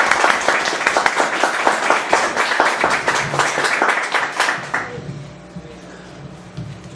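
A hall audience gives a speaker warm applause before a talk on Inca political philosophy, with dense clapping for about five seconds that then fades into a quieter room.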